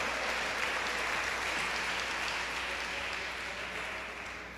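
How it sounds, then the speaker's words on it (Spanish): Church congregation applauding together during a Spanish-language worship service, a broad sustained wash of clapping that holds steady for several seconds and then eases slightly near the end. "Denle ese aplauso al Rey que vive."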